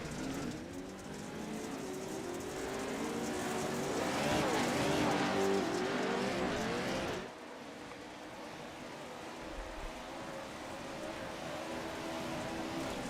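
Off-road race cars roaring around a dirt track during a race, a dense sustained engine drone that swells, drops sharply, then continues at a steady distance.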